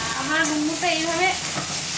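Fried fig and potato pieces tossed into spices in a pan, a steady dense sizzle with stirring underneath while a voice talks over it throughout.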